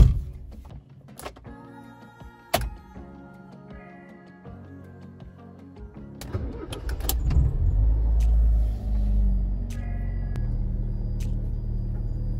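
A car is turned around: clicks and knocks at first, then a low engine rumble that builds and holds steady as the vehicle manoeuvres. It sounds close and inside the cabin, with no talking.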